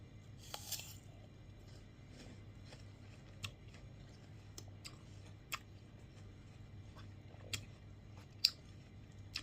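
Someone bites into a crunchy sour green apple, then chews quietly up close, with scattered sharp crunches and small clicks spread over a soft background hum.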